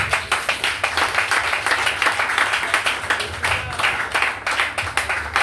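A church congregation claps together in a fast, steady rhythm, loud and close, with some voices mingling into the applause.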